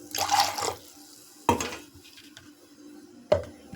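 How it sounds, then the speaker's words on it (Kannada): A little water is poured into a mixer jar in a kitchen, giving a short splashing pour followed by two sharp clinks of the jar against a surface, close and alone. "ಈ ಮಿಕ್ಸಿ ಜಾರ್ಗೆ ಒಂದು ಸ್ವಲ್ಪ ನೀರು ಹಾಕಿ"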